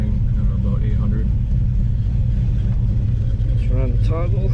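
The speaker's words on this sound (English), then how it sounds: "Actually, the car is idling, I don't know, about 800." A car with a Holley 650 double pumper carburetor idles at about 800 rpm, a loud, close, steady low rumble, while someone talks over it.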